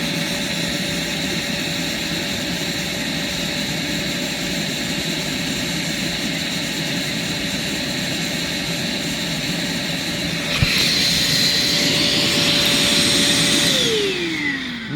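A Hoover Platinum SH10000 shoulder canister vacuum runs with a steady, loud motor whine and a constant drone throughout. Near the end the pitch shifts upward with added hiss, then the motor winds down in a falling tone as it shuts off.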